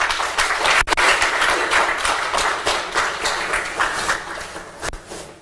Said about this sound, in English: Please give me one more round of applause.